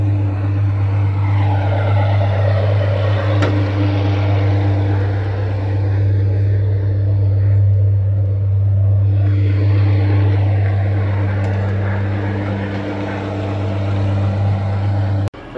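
An exceptional car at the Villa d'Este concours d'élégance, its engine giving a loud, sustained deep roar held at a steady pitch that swells and eases slightly, heard close with no talking.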